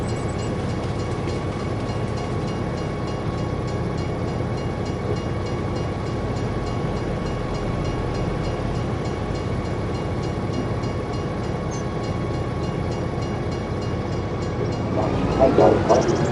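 A train in the video game Farming Simulator 25 rumbles past steadily and loudly, a continuous drone that swells slightly near the end.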